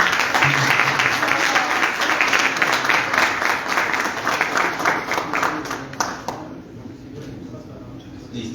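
An audience gives a strong round of applause at a round-table event, dense clapping that holds steady, thins out and fades away after about six seconds.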